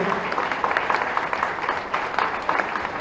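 Loud, continuous applause from an audience at a live event in Bhopal with the state chief minister, a dense steady wash of clapping with no pauses.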